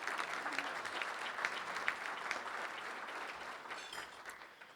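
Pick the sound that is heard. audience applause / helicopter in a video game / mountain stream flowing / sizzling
audience applause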